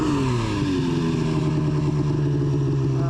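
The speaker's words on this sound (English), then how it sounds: "As you can hear the motor running poorly, the exhaust cables fell out of the servo motor yet again." A snowmobile engine runs poorly after its exhaust cables slipped out of the servo motor, a loud steady drone with a brief uneven pitch drop near the start, heard close and alone in deep snow.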